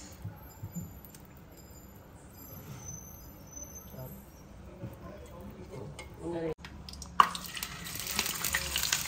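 Oil sizzling and popping in a pan during home cooking, faint crackles and spits under a woman's and a child's chatter, turning to a louder hiss near the end.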